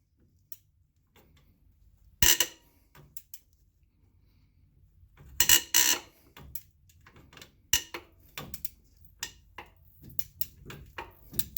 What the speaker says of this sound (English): So I'm going to get my socket wrench on it with a deep socket there.